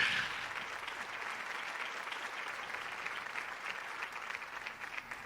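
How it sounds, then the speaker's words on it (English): Steady applause from an audience at a city's State of the City address, a dense, even wash of clapping lasting several seconds, moderately distant and without speech over it. "Let's give our entire team a big round of applause."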